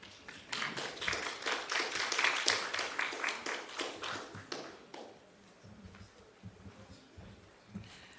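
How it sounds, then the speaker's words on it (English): Audience at a national health research conference applauds presenters: dense clapping builds for about four seconds, then thins to scattered claps and faint murmuring. "let's have another round of applause for our presenters this morning"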